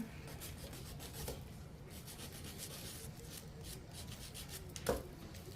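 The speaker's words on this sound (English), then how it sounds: "Take my sander." A hand sander rubs steadily against a small image cut from a wooden stir stick, a faint, even rasping that runs throughout, with one brief scrape near the end.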